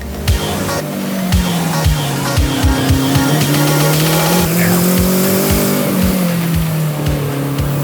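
A Renault R5 Turbo engine accelerates hard with turbo lag. The engine note climbs steadily and loudly, with repeated sharp pops and clatter, and a voice speaks briefly over it.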